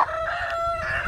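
Laying hens in a farmyard pen, with a steady high tonal call and crowing-like fowl sounds over soft background clucks, close and continuous for about a second.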